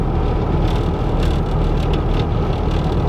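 A twin turbo Ford F150 truck on the move gives off a nasty, heavy low rumble, loud and steady throughout with no break and no voices.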